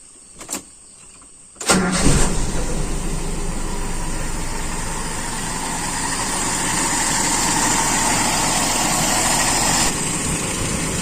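A Toyota Kijang engine fitted with an Aisan carburetor, already at working temperature, is started with a couple of brief cranks and then settles into a steady, close idle that holds even and continuous.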